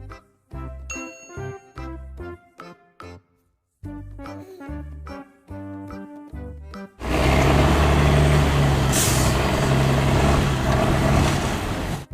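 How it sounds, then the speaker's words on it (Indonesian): An orange dump truck starts up after a tinkling jingle: a loud, steady engine rumble fills the last five seconds, with a short burst of air-brake hiss near the middle. "Truk dump oranye."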